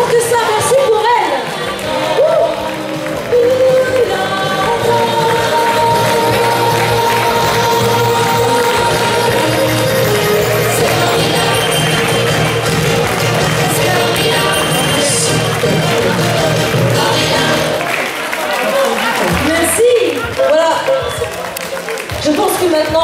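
A crowd at a 2015 seniors' dinner in Mantes-la-Jolie cheers and applauds a performer and her troupe. The clapping is loud and sustained, mixed with music and voices, and fades near the end.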